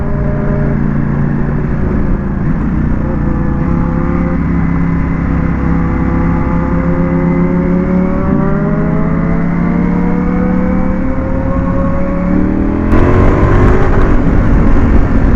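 A Ducati Panigale V4 S engine roars loudly up close on a London night street, its pitch climbing steadily through several gear changes as it accelerates hard, with a sharp surge near the end.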